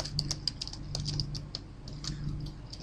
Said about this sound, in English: We'll enter our message into the HTML editor, and we'll just type